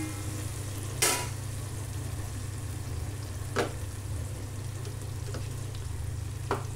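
Onion and tomato frying in a pan as ginger garlic paste is added for chicken biryani, a steady close sizzle with a few sharp spoon clinks and stirring scrapes.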